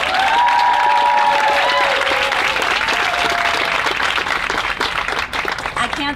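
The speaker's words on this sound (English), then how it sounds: "if everybody could please give a huge round of applause to Marie" Audience applause at a white coat ceremony for a physician assistant class, loud sustained clapping with a few whoops and cheers, steady throughout and thinning slightly toward the end.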